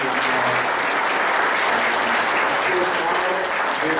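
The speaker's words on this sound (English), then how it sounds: "Let's give Alex a round of applause." Steady, enthusiastic applause from a crowd at a political debate, dense clapping holding at an even level throughout.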